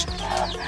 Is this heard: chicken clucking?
yes